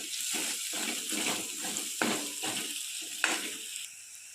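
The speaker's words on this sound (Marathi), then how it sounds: "मीठ टाकूया चवीनुसार, हळद आणि धने पावडर टाकू आणि याला मिक्स करू." Samosa filling frying over a medium flame as salt, turmeric and coriander powder are stirred in, a soft hiss of sizzling with repeated scraping strokes and a couple of sharper clinks, fairly quiet.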